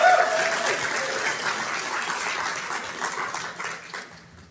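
A crowd at a California Democratic Party executive board meeting applauds, a full, dense burst of clapping that starts strong and gradually thins and fades toward the end.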